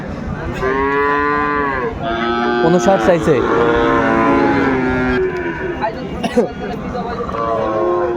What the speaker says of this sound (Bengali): শাহিওয়ালের ষাঁড় বাচ্চা আমরা দেখছিলাম এখানে